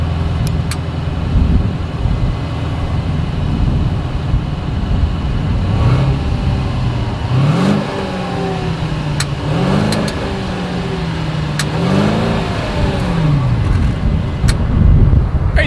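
A Mercedes-Benz S580 engine revs through its dual exhaust, several rising throttle blips over a steady idle rumble, loud and close, with sharp clicks between revs.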